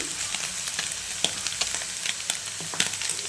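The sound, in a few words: capsicum and eggplant frying in a pan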